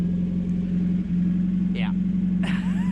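A racecar engine with no muffler idles at low RPM, giving a steady, loud, close rumble. Brief voices break in over it twice.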